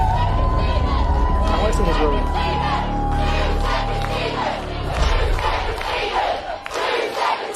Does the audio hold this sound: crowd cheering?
yes